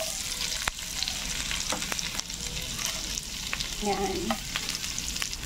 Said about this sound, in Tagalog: Ito natin gigisahin yung bawang at saka sibuyas at saka luya.